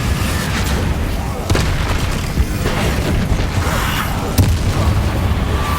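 Confringo blasting-spell explosions in the Hogwarts Legacy video game, a dense, loud wash of booming rumble with a couple of sharper bursts standing out amid continuous battle noise.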